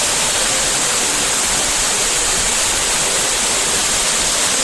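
Batlag Falls pours in a constant, dense roar of falling water that stays close and loud, with no voices.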